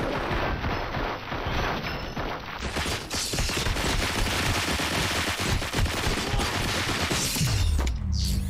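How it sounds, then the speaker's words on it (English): Sustained, dense gunfire in the video game RoboCop: Rogue City: rapid automatic bursts and shots crash together without a break, loud and close, ending in a low sweeping rumble. "Fire at will."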